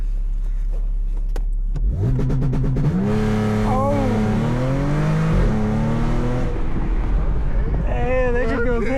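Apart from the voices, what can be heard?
supercharged Audi S4 car revving and spinning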